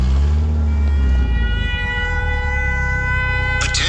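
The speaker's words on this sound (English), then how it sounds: "I hear sirens going off in my phone." A wailing air raid alert siren sounds in Kherson, a loud sustained tone that shifts pitch early on and then holds steady, with a brief click near the end.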